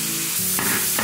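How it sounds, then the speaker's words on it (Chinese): Dried tofu hits hot oil in a wok in a home kitchen, giving a brief, loud, steady sizzle with a quick stirring scrape partway through. "来点豆干儿。"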